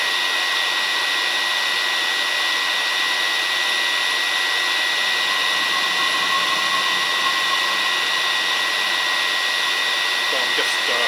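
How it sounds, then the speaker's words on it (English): A Chinese diesel heater's blower fan runs flat out at maximum speed, giving a steady, loud, unbroken whoosh with a faint high whine that holds level throughout and has no voices over it. "We'll bring the fan speed up to maximum just to cool down the heat exchanger."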